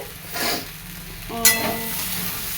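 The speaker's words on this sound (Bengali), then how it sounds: "আর একটু টমেটো দিয়েছি দেখো দিয়ে একসঙ্গে ভাজা ভাজা করছি" Potatoes and tomato frying in hot oil with cumin, ginger paste and shrimp in a home kitchen, giving a steady close sizzle with a stirring scrape in the middle and a brief clatter of a utensil.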